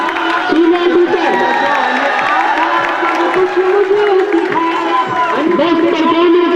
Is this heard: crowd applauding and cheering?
yes